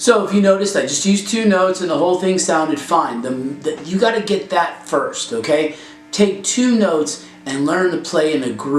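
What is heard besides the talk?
No everyday noise stands out behind the speech.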